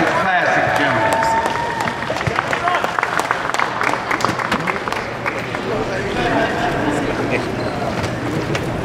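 Audience applause in the room at a fighter's post-fight press conference after a boxing match, dense steady clapping mixed with crowd murmur throughout, with some voices underneath.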